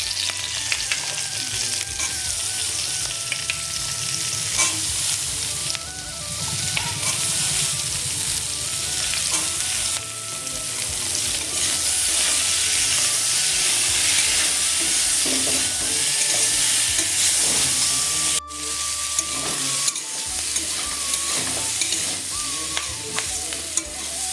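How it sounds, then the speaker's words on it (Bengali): Onions fry in a pan with cauliflower and potatoes, a loud, steady sizzle running throughout, with repeated scraping and clattering of a spatula as the mix is stirred. "এবারে এই ফুলকপি আলুর মধ্যে আগে থেকে কেটে রাখা পেঁয়াজগুলি দিয়ে দিচ্ছি"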